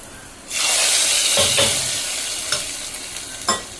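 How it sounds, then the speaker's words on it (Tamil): Hot oil tempering poured into capsicum kootu sets off a loud, steady sizzle that rises suddenly and hisses on for seconds, with a few sharp crackles and spits toward the end. "இப்போ இதில் தாளிச்சு கொட்டிக்கலாம்"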